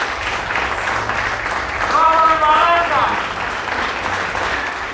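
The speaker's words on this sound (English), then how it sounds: "thank you very much for the applause" Audience applause at an improv comedy show, steady clapping filling the room for several seconds with a brief whistle-like tone in the middle.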